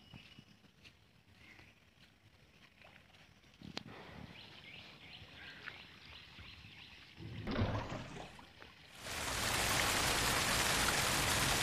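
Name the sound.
heavy rain with water flowing down the street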